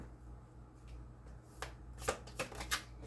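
Cards being shuffled to draw one during a card reading, a quiet soft riffle followed by several crisp snapping flicks near the end, close and alone.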